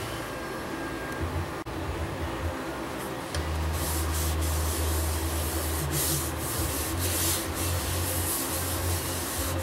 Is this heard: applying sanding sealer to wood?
yes